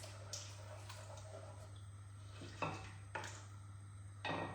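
Chilli mixture being stirred in a pot, with soft scraping and a few sharp clinks of a utensil against the pot over a low steady hum, quiet and close.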